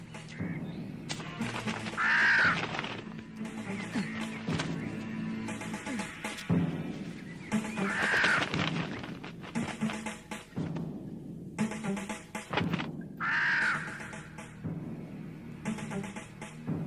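Crows cawing repeatedly in harsh, nasal bursts at fairly regular intervals, loud and close, with some rustling and background noise between calls.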